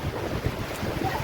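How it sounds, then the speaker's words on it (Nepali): Strong wind on Digha beach roars continuously into the microphone as a dense, rumbling gust noise with surf-like wash, steady and loud with no clear voices. "यहाँ कति हावा निकै चल्दैछ"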